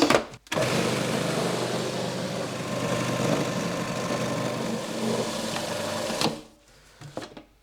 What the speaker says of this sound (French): Et là, on remet à mixer.